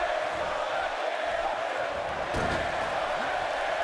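WWE 2K18 arena crowd cheering and chanting as a steady, loud wash of voices, with a thudding impact midway.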